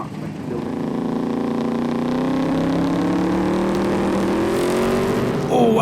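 Nissan GTR launching on a Street Eliminator drag strip run, a loud engine wail with harmonics climbing steadily in pitch as it accelerates hard, ending in a sharp change near the close.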